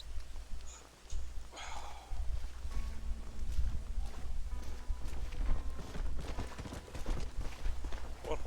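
Horse hooves clopping and galloping across ground in Red Dead Redemption, a quick rhythmic beat of hoofbeats over a low rumble, with faint ambient sounds around it.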